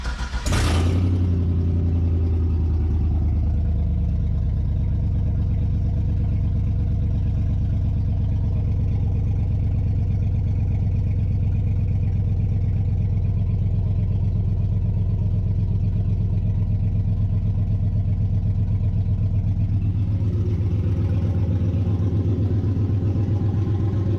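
An LS-swapped car engine fires with a sharp burst, then idles low around 600 RPM in a steady, rumbling drone close by for the rest of the stretch.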